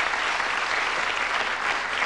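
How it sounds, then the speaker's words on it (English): Warm audience applause at a televised Christmas episode of the UK game show Bullseye, a dense, continuous wash of clapping from a studio crowd, steady and moderately loud throughout the brief stretch. "give them a nice, warm Christmas round of applause"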